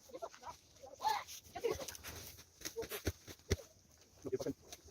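A dog whines and makes soft vocal noises beside a campfire in a snowy winter forest, quiet and intermittent beneath people chatting nearby.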